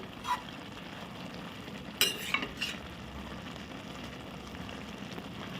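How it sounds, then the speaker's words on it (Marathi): Amla cooks with sugar and jaggery in a pan over a gas flame, a soft steady sizzle and bubble broken by a few scraping stirs of a spoon against the pan, close and unaccompanied by talk. "आपण डायरेक्ट साखर आणि गुळ घालूनच गॅसवर ठेवला आहे त्यामुळे तो चांगला शिजायला हवा"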